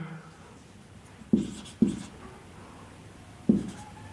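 Chalk or marker writing on a board during a maths lesson, three distinct sharp taps or strokes against a quiet room background with no talking.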